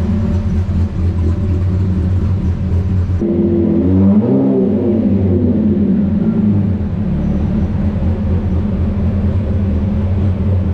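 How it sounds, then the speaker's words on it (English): A VW Mk2 fitted with a VR6 engine rolls into a home workshop, its engine a steady loud rumble and whir close by, with a brief shift in tone partway through and no talking. "be the first time pulling my own car into my own shop"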